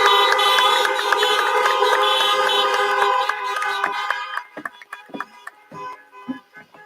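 Car horns honking together at a 2020 drive-in college graduation ceremony, a dense chorus of sustained overlapping tones that stops after a few seconds, leaving scattered short toots and thumps.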